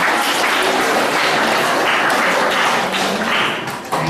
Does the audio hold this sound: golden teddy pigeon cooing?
no